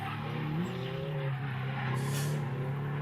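A drift car e-brakes into a corner at a drifting event at Mineral Wells, engine droning as the tires skid with a rising squeal, a burst of noise near the end, no talk.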